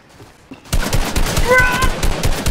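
Rapid automatic gunfire in Fortnite, a loud burst of closely spaced shots starting after a quiet moment and rattling on without pause.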